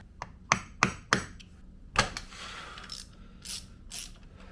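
A ratchet loosens a bolt on a Suzuki DR650 motorcycle: a few sharp, close clicks, then a rapid ratcheting whir with scattered metallic ticks.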